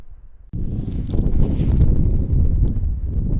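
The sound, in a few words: wind on a golf course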